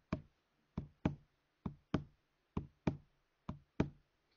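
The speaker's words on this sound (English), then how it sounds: "if you think about the sound that your foot makes as you walk along the ground, you put your heel down first and then your toe follows" Heel-toe footsteps on the ground, nine crisp knocking impacts spaced at an uneven walking pace, close and fairly loud with nothing else heard.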